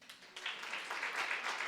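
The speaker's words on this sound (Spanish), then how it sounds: "¿Cuántos dan un aplauso al Señor?" A church congregation breaks into applause during a sermon, starting with scattered claps and swelling quickly into dense, steady clapping from a crowd at a moderate distance.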